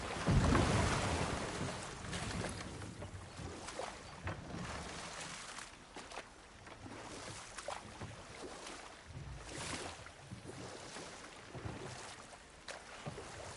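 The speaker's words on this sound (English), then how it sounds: "Waterfalls. We're close." Waterfall in the video game God of War, a steady broad rush of falling water that holds loud throughout, swelling slightly at the start with no voices.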